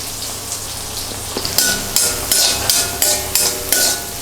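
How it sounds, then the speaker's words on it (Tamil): Small onions dropped into hot oil with dried chilli, fennel and cumin for a chicken curry, giving a loud crackling sizzle with repeated sharp stirring or scraping knocks in a steady rhythm. "சின்ன வெங்காயத்தை போட்டுடலாம்."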